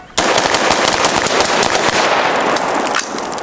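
Loud, rapid gunfire at an outdoor shooting range during a range-day event, with a fast stream of close shots that starts abruptly and keeps going almost without a break.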